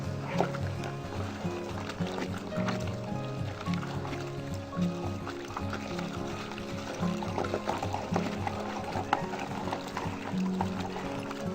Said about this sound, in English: let's start using that water wand